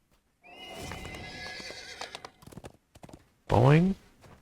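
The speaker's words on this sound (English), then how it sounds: "With my horse on." A horse in the Dungeons and Dragons Online video game whinnies loudly near the end. Before that come clopping hooves and other game sounds, with a short burst of activity in the middle.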